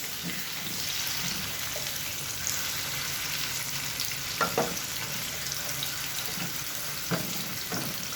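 Carrots and potatoes fry in a pan with a soft, continuous sizzle, broken now and then by a few light clinks and stirring knocks.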